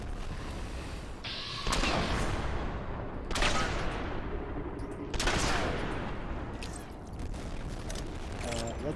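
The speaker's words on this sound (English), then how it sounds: "the explosions are just too much" Explosions and gunfire from the Fallout: New Vegas Lonesome Road add-on roar in repeated heavy bursts, one every couple of seconds, with a constant rumbling din in between, loud and dense throughout.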